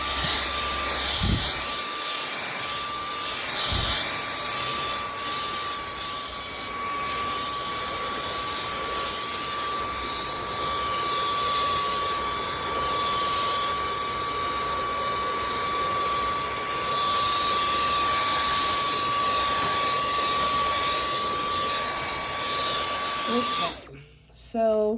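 A Dyson vacuum cleaner fitted with a dust brush attachment runs continuously for a long stretch as it cleans a table, a loud steady motor whine with a constant high tone, stopping near the end.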